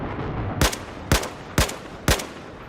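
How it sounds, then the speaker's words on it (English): Four sharp AK-12 rifle shots, fired one at a time with roughly half-second gaps, crack loud and close over a steady background in Battlefield 4. "Just tap fire."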